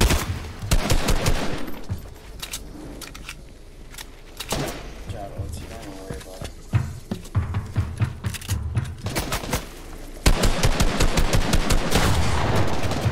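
Fortnite gunfire in a token wager match, with rapid bursts of shots and sharp single cracks throughout and a fast continuous volley near the end, with players talking over parts of it.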